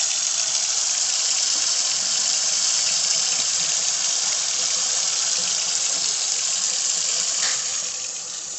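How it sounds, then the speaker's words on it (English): Tap water runs steadily from a faucet into a sink during hand washing in a home kitchen, a continuous broadband hiss that holds evenly before tapering slightly near the end, with no talking. "let me wash my hands again."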